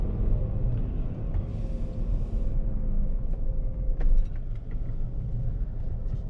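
An airport operations vehicle drives along runway 16 at Westchester, with a steady low engine and tire rumble heard from inside the cabin and a few faint clicks, and no talking.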